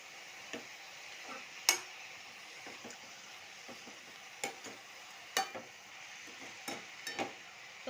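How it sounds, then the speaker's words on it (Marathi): Spring onion greens sauté in oil in a pan with a faint, quiet sizzle, punctuated by scattered soft clicks and taps of a utensil stirring. "तेलात परतून घ्यायची व्यवस्थित आणि मग शिजायला ठेवायची"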